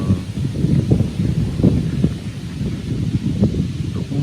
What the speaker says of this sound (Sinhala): බලන්න මේ උලඟක් එනවා. උලඟ හොඳටම සැරයි.